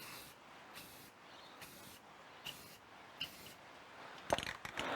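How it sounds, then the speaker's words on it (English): A spray can of clear coat hisses in several short close bursts over an unsanded surface, spaced roughly evenly, ending in a brief cluster of clicks and rattles, with no speech. "I will spray an area that hasn't been sanded just to see how that goes as well"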